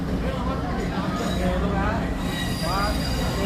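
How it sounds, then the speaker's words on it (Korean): A train passes close by at a railway crossing in Taiwan, a loud steady rumble with wheel squeal and rising screech tones, while people talk over it. "기차가 오고 있어"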